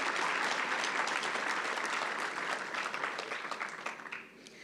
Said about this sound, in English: Let's applaud our PGCE graduates in intermediate phase teaching.